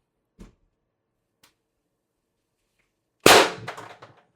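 Single sharp shot from a high-pressure air gun running 1,000 psi HPA with 6-gram ammo, a crisp crack with short decay, preceded by faint small clicks; close and otherwise quiet.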